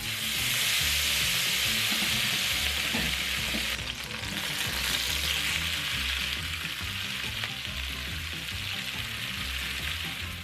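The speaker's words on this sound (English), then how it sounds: "To a pan, add that butter." Butter seasoned with roasted garlic paste, salt and pepper sizzles steadily in a pan before shrimp are sauteed, a loud continuous frying hiss with faint stirring and no talk.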